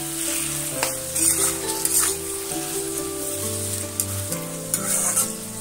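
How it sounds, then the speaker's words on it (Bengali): Chopped tomato fries in oil, a close, busy sizzle with crackling bursts and spatters, while a low steady hum from a stove or fan runs underneath and shifts in pitch; nobody speaks. "টমেটোটা দিয়ে আবারও আমি এইভাবে একটু টমেটোটা ভাজা ভাজা করে নেব"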